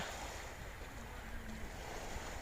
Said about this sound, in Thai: ฟังเสียงคลื่นซัดฝั่ง